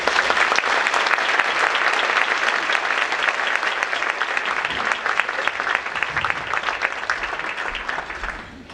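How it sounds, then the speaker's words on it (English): Sustained audience applause at an awards luncheon, a dense steady wash of many hands clapping that holds loud for most of the stretch, then thins slightly and tapers near the end. "So please give a warm round of applause for Typia Wright."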